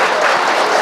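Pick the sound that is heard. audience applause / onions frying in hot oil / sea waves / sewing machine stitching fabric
audience applause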